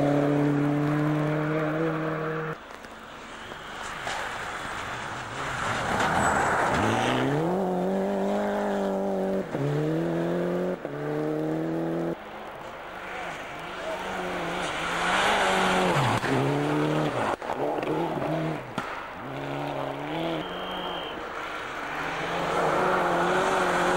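Rally cars in the 2000 Swedish Rally, including a Toyota Corolla and a Peugeot 206 WRC, howl past on a snowy stage, engines rising and falling sharply through gear changes and lifts, loud and close with no voices.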